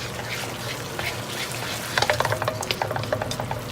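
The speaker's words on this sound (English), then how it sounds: "you're going to stir the pasta, and you want to just add the eggs in like this" Spaghetti tossed with raw eggs for carbonara, a low steady hum from the pan and then a run of wet, sticky stirring clicks and squelches in the second half.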